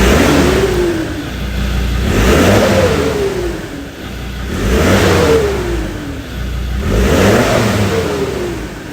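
A Ford Ranger engine on its stock exhaust, warmed up, revs repeatedly: four loud rising-and-falling rev cycles, evenly spaced, with no talking over them.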